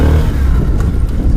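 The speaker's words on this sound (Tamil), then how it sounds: "பார்த்தீங்களா சைலன்சர் சவுண்ட் பார்த்தீங்களா? Okay, first gear." Bajaj Platina H Gear 110 motorcycle in first gear, a loud close, steady low exhaust drone with a slight uneven pulse and no voices.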